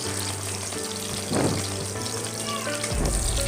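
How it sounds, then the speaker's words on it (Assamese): Oil sizzles steadily with a soft crackle as two dried red chilies and a little onion fry, and a couple of brief louder bursts suggest something dropped into the hot pan. "তেলখিনি গৰম হোৱাত 2টা শুকান জলকীয়া দি দিছোঁ। অকণমান পিঁয়াজ দি দিছোঁ।"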